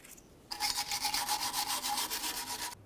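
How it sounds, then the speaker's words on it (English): A wire brush scrubs a brake backing plate on a 2004-2015 Nissan Titan, close and harsh, a run of quick rhythmic rasping strokes lasting about two seconds after a short quiet start, with no talking. "To clean this, I'll use my wire brush."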